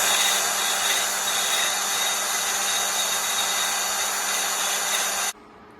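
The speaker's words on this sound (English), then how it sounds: "I've just got a little Dremel and a drill here just to clean up that paint area." A small Dremel and a drill stripping paint off a metal table, a steady high-pitched whine held at an even level for about five seconds before it cuts off abruptly.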